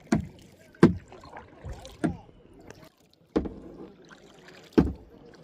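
Kayak paddles dip and pull through the water of Hatta Dam in a steady rhythm, with several sharp splashing strokes up close and soft water sloshing between them, with no talk.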